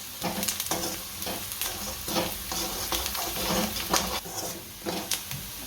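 Garam masala and salt being stirred into frying chevdo made from leftover rotli, with a steady sizzle under repeated scraping and stirring strokes, close and fairly loud throughout.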